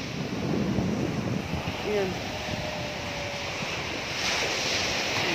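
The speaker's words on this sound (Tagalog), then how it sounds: "Diyan, ang lakas ng mga alon, ayan o." Strong open-sea waves on a Zambales beach produce a continuous loud wash of surf mixed with gusting wind noise, and a voice speaks briefly over it.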